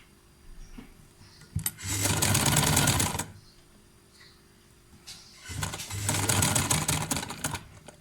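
A sewing machine stitching a back neckline runs in two loud, steady bursts of rapid mechanical whirring. Each lasts a second or two, and a quiet pause separates them.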